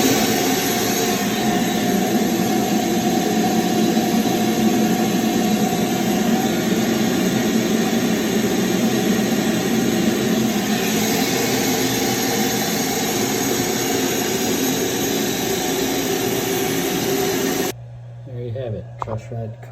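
Longmill CNC router spindle and dust fan running while cutting a guitar neck, a loud continuous high whine and airy roar that holds steady for most of the clip, then cuts off abruptly near the end.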